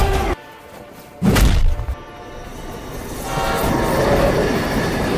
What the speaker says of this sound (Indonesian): tepat saat ada kereta api yang melintas